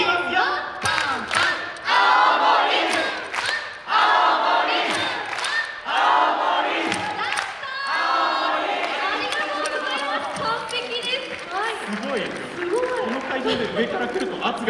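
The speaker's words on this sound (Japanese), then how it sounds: "はい、青森コール行きますよ" Festival audience at a Fukushima YOSAKOI dance event shouting the rhythmic Aomori call together, loud repeated group shouts in bursts, with chatter and clapping mixed in and voices over a PA.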